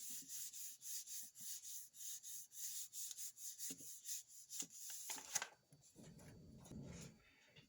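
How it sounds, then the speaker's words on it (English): Polymer clay fresh from a pasta machine is burnished by hand, giving a quick series of close, soft rubbing strokes in a steady rhythm that thin out into quieter scuffs and handling noises near the end. "burnish that a little bit."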